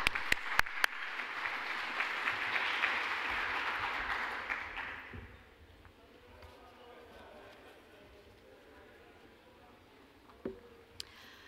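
An audience at a WMF 2014 conference session applauds to welcome speaker Galina Antova. Broad, steady clapping fills the first five seconds, then fades into a quiet room with a few faint knocks.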